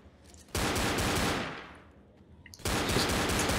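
Rapid gunfire from a hunting rifle in the zombie shooter game Left 4 Dead, two loud sustained bursts of shots separated by a brief lull, close and dominant with no talk.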